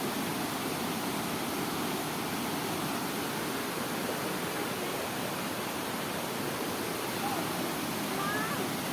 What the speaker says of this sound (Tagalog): Daranang Falls ng Tanay Rizal